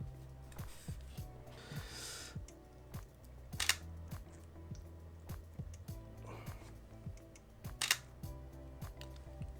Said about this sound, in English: Let's take the first selfie shot.